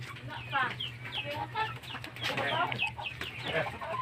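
Several chickens cluck and chatter close by in overlapping bursts, over a low steady hum.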